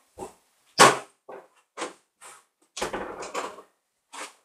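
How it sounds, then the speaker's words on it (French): An indoor door swings shut with several short knocks and thumps set apart by pauses, ending in a firmer cluster of bumps and one last tap, all close and fairly loud. "je vais juste refermer la porte"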